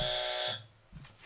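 A quiz game show buzzer sounds once, a loud bright electronic tone lasting about half a second, followed by faint low murmuring.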